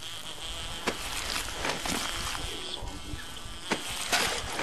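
A bee in the video game 7 Days to Die, searching a police station, buzzing steadily close by with a droning, wavering tone, punctuated by a few soft clicks.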